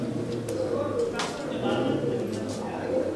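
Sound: Hazar wale pigeons cooing

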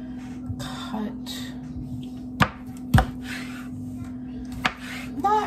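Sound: chopping food with a knife

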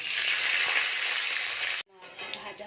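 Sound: green chillies frying in a pan

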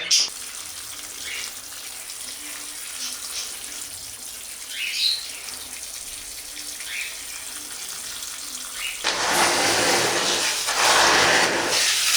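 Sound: washing dusty aquarium material in a basin with water

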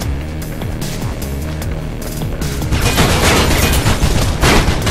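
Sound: gunfire from an enemy in the Mirror's Edge video game

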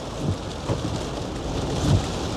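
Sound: heavy rain

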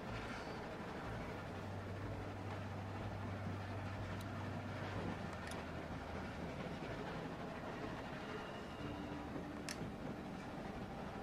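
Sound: train running in The Walking Dead video game

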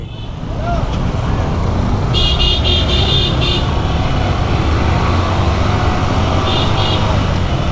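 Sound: motorcycles entering traffic at checkpoint

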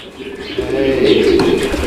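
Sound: pigeons cooing

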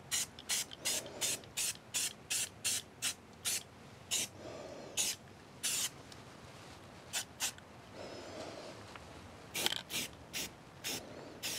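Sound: spray paint being sprayed on truck body

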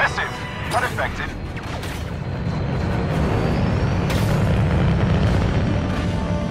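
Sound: proton torpedo explosions in the video game Star Wars Battlefront II

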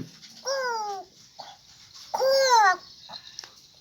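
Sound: child imitating a dog

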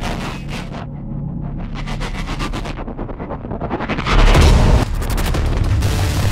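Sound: gunfire in the video game ARMA 3

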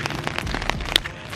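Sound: rain falling outdoors

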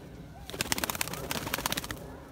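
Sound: pigeons in an aviary

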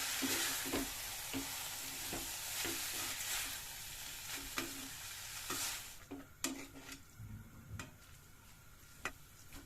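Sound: stirring and frying veg chow mein in a pan

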